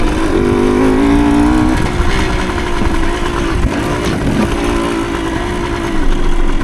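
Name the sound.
1975 Suzuki TS125 Duster trail bike engine riding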